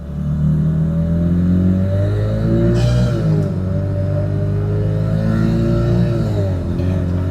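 A car with a ZF 8HP automatic transmission and custom tuned control unit accelerates under load, the engine drone rising steadily with a brief dip and clatter at a gear shift, heard up close from inside.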